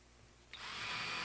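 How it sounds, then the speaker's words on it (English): A power drill drives a screw into a wooden boat's forward king plank set in epoxy; after a brief quiet moment, a close, steady high-pitched motor whir starts and holds. "I'll attach it with some screws."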